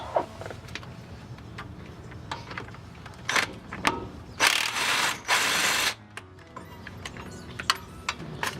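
Ratchet wrench clicking while removing the bolts from the back of a steering knuckle on a Nissan S13 during a dual caliper install, with short bursts of rapid pawl ticks and several louder sustained ratcheting runs in the middle.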